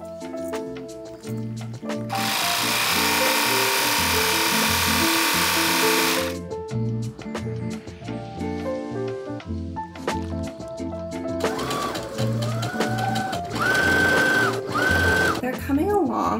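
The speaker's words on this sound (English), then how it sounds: "Now I'm gonna cut and serge all the way around, and then I think I'm gonna press it and I'm gonna top stitch it" Serger and sewing machine stitching trouser seams, with bursts of steady high-speed whirring and rhythmic mechanical clatter, stopping and starting, up close and loud, with music playing underneath.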